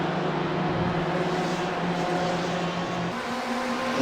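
GTE Pro race cars in a sim racing game sweep through the Porsche Curves, their engines making a continuous loud drone that shifts in pitch as they accelerate through the bends.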